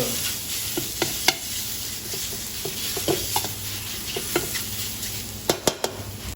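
Chili paste and bone-in pork belly are stir-fried in hot oil for a northern Thai jackfruit curry: a constant close sizzle with irregular sharp scrapes and clanks of a spatula against the pan, clustering near the end, with no talking.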